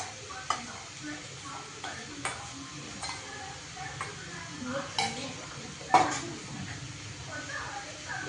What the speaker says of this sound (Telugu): పన్నీర్ మిక్స్ వేసుకున్నాక మళ్ళీ ఒకసారి బాగా కలుపుకోవాలి.